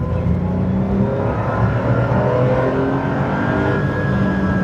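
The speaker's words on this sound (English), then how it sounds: "Just feel the gas flow beginning to work in the engine." Porsche 911 SC engine revving hard under acceleration, a loud, steady and continuous roar that builds in pitch with no gaps throughout.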